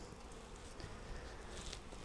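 Honey bees buzz around a Flow Hive super set outdoors in hot sun, a steady, diffuse hum at moderate distance that runs the whole time with no pauses and no talking over it.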